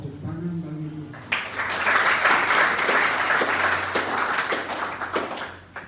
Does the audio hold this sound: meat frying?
no